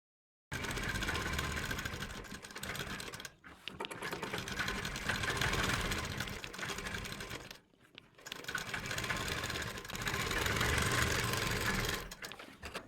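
Electric sewing machine stitching a kameez suit, a loud steady whirring run that stops briefly twice and starts again, with no voices.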